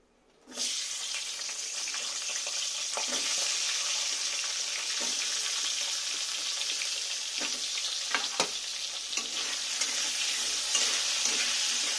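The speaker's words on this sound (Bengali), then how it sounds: "আমি এই তেলের মধ্যে আলুগুলো ভেজে নেব।" Potatoes drop into hot oil left from frying katla fish with a sudden burst of sizzling, then a loud, steady crackling fry continues close up, with occasional stirring clicks.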